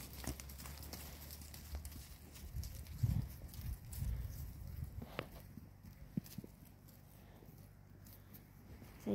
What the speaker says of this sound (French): Une bande de poney tout cracra